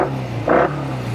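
A 1968 Triumph Bonneville 650 motorcycle engine hums at a steady low idle, then gives one brief throttle blip before dropping back.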